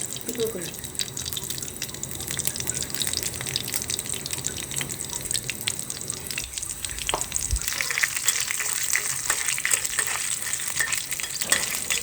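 Dried red chillies frying in hot oil at the start of a spiced tempering for beef nihari, a steady crackling sizzle close by with occasional stirring clinks and sharper pops partway through.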